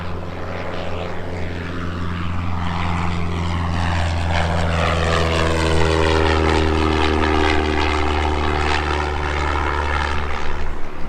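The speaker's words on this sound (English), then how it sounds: "Right now, another plane taking off." Small propeller plane taking off at Hanover Airport, a loud steady engine drone with a strong low hum that builds as the throttle opens, heard up close with no talking.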